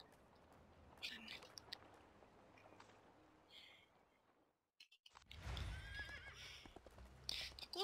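A golden horse in the online game Dragensang Online whinnies and clops its hooves, with faint bright neighs early on, a brief gap, then a louder burst of hoofbeats and whinnying near the end, under quiet background sound.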